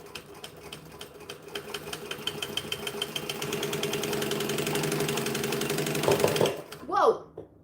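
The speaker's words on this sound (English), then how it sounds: "we're going to stitch and back stitch." A sewing machine set to a 4 stitch length runs a straight seam about 1/8 inch from the edge, with a steady rapid whirring stitch that briefly reverses for a back stitch before stopping abruptly.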